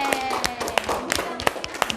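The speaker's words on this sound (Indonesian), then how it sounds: "Kita kasih aplaus untuk kelompok 1." Classroom applause for a student group, a ragged scattering of hand claps of mixed strength over a steady low background hum, with claps bunching into brief bursts across two seconds.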